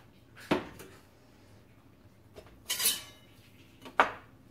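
A metal pot of apricot habanero glaze set onto a stove, several sharp clanks and scrapes of metal on metal spaced a second or so apart, close and fairly loud against a quiet room.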